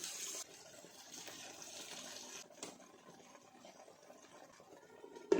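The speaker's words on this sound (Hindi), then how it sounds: "अब इसमें हम थोड़ा सा पानी शामिल करते हैं।" Water is poured into a pan of mutton keema with potatoes, giving a soft, steady gushing splash that runs for several seconds at close range, ending in a sharper clatter.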